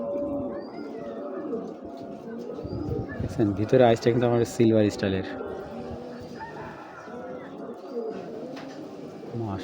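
Pigeons coo in a loft, their low rolling calls rising in a louder burst mid-clip while someone talks over them nearby.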